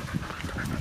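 Dogs out on a group walk, making short bursts of barking or panting sounds, fairly close, over a busy outdoor background in under a second.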